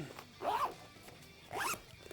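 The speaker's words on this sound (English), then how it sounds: "Zip this one up." Two quick zips of a compartment on a Thor Reservoir 3L hydration backpack, each a short rasping pull close to the microphone, spaced about a second apart in a quiet room.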